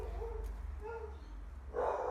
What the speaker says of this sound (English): Dogs next door going off